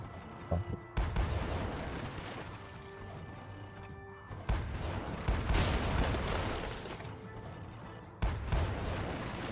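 Ship cannons in the naval video game Sailing Era fire in several heavy booming blasts with crashing impacts, loud and dense, separated by rumbling battle noise.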